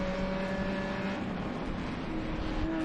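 Spec Miata race cars roar past at speed at the Mid-Ohio Sports Car Course, a steady, loud engine drone with shifting pitch as several cars run close together on track.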